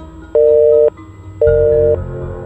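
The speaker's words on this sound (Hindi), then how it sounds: "नंबर मिल काहे नहीं रहा है।" A phone call on speakerphone fails to connect, giving two long steady dual-pitched tones, each about half a second, separated by a short gap, loud and close over a low background hum.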